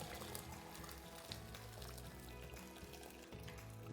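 Vegetable stock broth pours from a height into a container in a continuous splashing, gurgling stream that holds steady for several seconds, close and fairly quiet, with no talking.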